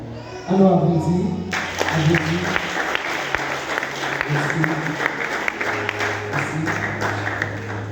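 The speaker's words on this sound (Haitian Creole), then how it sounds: "Alors, applaudis." Applause at a wedding ceremony, a crowd clapping steadily and fairly close for several seconds, with voices and some tonal sound beneath.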